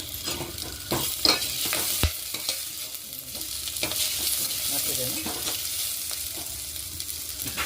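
Onion and coriander leaves sizzle steadily in hot oil while a spatula scrapes and stirs in irregular strokes; a voice says a word briefly near the end.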